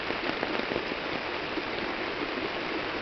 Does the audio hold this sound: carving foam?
no